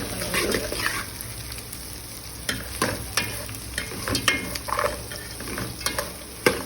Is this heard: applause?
no